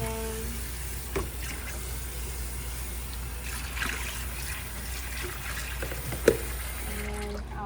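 Water running from a tap into a sink as plastic basins are washed, a steady faint wash of flow with a few soft knocks and one sharp clunk near the end, no voices.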